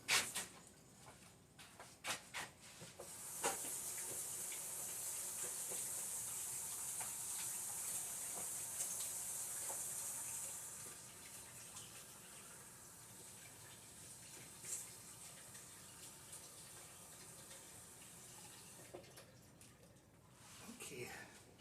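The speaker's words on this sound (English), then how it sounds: "Wash my hands a little bit." Tap water runs steadily at close range while hands are rinsed in a home kitchen during pork loin prep, a continuous hiss lasting several seconds before easing off.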